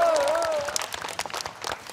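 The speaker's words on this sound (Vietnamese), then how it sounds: "Một tràng pháo tay thật to cho cả ba đội chơi." A studio crowd applauds the three competing teams on a Vietnamese TV game show. The clapping is fairly loud and dense, starts under a host's voice, and then continues on its own.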